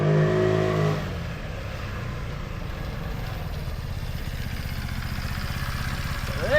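A Lexmoto Enigma 125 motorcycle runs with its air box removed, giving a steady, rough, raspy engine drone close by after a brief louder burst, with no talk over it.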